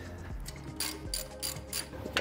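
A hand ratchet backs out a T30 Torx bolt during a turbo install on a BMW F80 M3, making a quick run of clicking pawl strokes in short bursts, close and moderately loud, with no talking.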